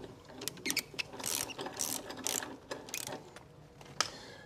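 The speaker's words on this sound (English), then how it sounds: "So I'm gonna just use here like a safety wrench to open it." A safety wrench loosening a connection bolt gives a run of quick ratcheting clicks in short bursts, close and crisp, with a few metallic taps between them.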